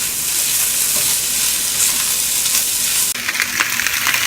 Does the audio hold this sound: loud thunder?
no